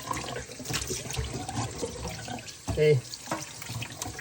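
Running tap water splashes over turkey wings being washed in a sink, an uneven rushing and spattering with a brief louder gush, while a person talks briefly.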